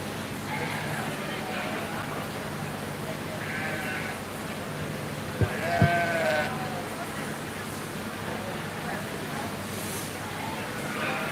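Sheep bleat at a 4-H and FFA sheep show at a county fair, one or two short calls standing out midway over a steady crowded barn murmur of indistinct voices.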